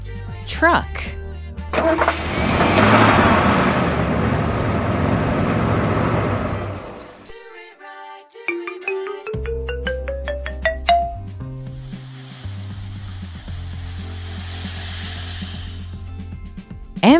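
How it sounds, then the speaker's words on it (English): A truck engine rumbles loudly and steadily as a broad, rough roar for several seconds, then cuts out, leaving children's music with beeps, a rising whistle and a long hiss. "Truck."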